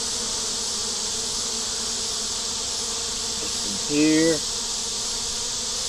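Honey bees from a large double deep hive hum in a dense, steady drone on a hot day as they crowd outside it, with a brief voice breaking in over the buzzing.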